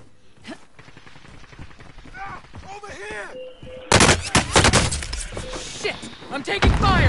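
Video game gunfire breaks out in a close, loud burst of rapid automatic shots after a quieter stretch of scattered sounds and pitched tones, with a player's voice faintly underneath.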